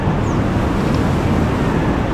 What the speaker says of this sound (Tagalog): Sarap din pagmasdan ng alon.